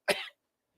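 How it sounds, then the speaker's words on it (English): A single short, sharp cough, close and fairly quiet, followed by silence. "let me cough that up real quick"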